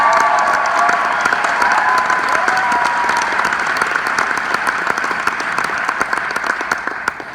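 An audience applauds at an achievers' event, with sustained dense clapping and a few cheers, loud and close throughout before easing slightly toward the end.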